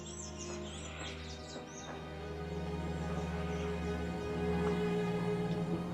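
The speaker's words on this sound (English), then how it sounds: "Plenty of bird life in the city of Medellin." Birds chirp in a green residential neighborhood of Medellin, with scattered high calls and short tweets over a steady background hum of the city, fairly soft throughout.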